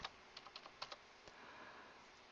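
Quick, light keystrokes tap on a computer keyboard in a short burst of several clicks, then trail off into quiet room noise.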